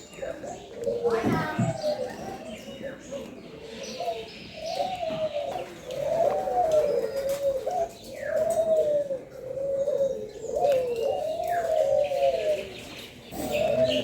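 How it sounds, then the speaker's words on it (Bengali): Pigeons at the Mohera Zamindar Bari in Tangail coo in low, repeated rolling phrases almost continuously, with other birds chirping faintly and people talking and children's voices in the background. "তাছাড়া এখানে কবুতর থেকে শুরু করে এই দেখেন কথা বলতেছে এটা।"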